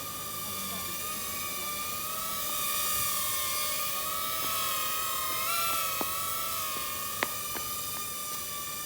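A self-flying UFO toy drone, hovering with no remote control, gives a steady, close, high-pitched motor whine with stacked harmonic tones. A few faint clicks and taps come near the end.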